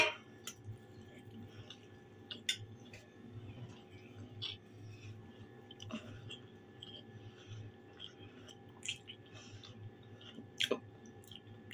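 Buckwheat being eaten close up, with soft, irregular chewing and small mouth clicks scattered over a quiet, humming room.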